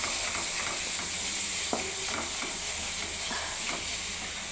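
Prawns fry in a pan alongside coconut while bottle gourd cooks, producing a continuous even sizzle and hiss with a few soft stirring taps scattered through.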